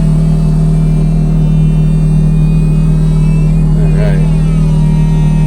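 A 2007 Ferrari F430 Spider drives with its top up, its engine a loud, steady low rumble and drone inside the cabin while a person talks over it throughout.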